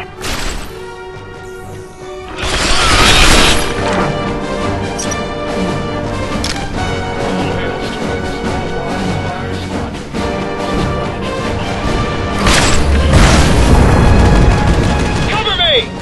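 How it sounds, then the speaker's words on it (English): Tectonic grenades exploding in the video game Fracture: heavy booms burst out near the start and again late in the battle, over continuous gunfire and combat noise. "They're throwing tectonic grenades."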